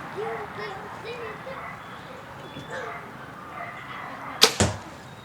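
A Bowtech Carbon Overdrive compound bow releases an arrow, a sharp, quiet snap and thud near the end, after someone talks over outdoor ambience.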